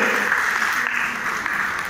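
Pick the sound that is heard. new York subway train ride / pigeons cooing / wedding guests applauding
wedding guests applauding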